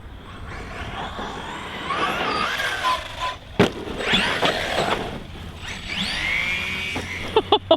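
A Maverick Quantum+ XT Flux RC car on a 3S battery runs nearby, its electric motor whining and rising and falling in pitch as it accelerates and passes, with a few sharp clattering knocks near the end.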